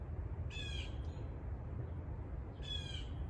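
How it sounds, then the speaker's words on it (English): Early in the morning in a sunflower garden, a bird outdoors gives two harsh, caw-like calls about two seconds apart, heard clearly over a steady low background rumble. "That bird's very happy."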